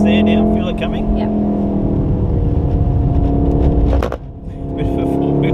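A Volkswagen Golf R on a trackday circuit at Wakefield runs hard under loud, sustained engine drone. The engine note dips briefly as it shifts, then resumes, with voices over it.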